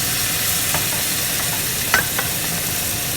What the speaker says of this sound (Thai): เราจะมาลงพริกกับต้นหอมเลยนะคะ ผัดให้เข้ากันนะคะ